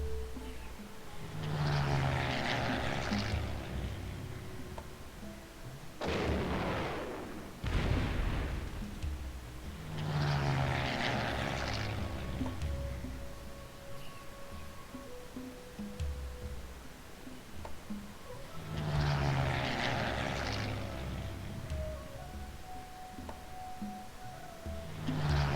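Bombing and artillery effects from the Civilization III video game roll past in repeated waves. Each wave is a rumbling burst of blasts with tonal game sounds between them, heard steadily over about twenty-five seconds with no talking.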